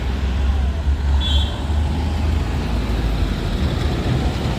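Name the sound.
many trailer trucks on the hill road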